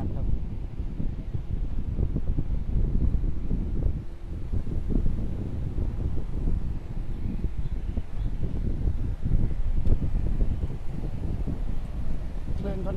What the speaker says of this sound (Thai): ชายหาดบ้านกรูดนะครับตอนนี้ลมค่อนข้างแรงมากครับ